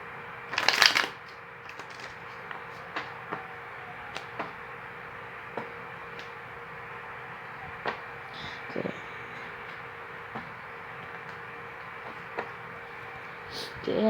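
Tarot cards shuffle in a brief burst of riffling near the start, followed by quiet taps and light card handling against a low background.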